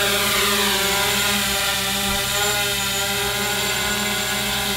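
MJX Bug 3 brushless drone motors hum in a steady, close, high whine with layered tonal buzzing. No talk is heard.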